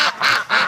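Geese calling loudly before dawn from their pen, two close, harsh honks in quick succession filling the short moment.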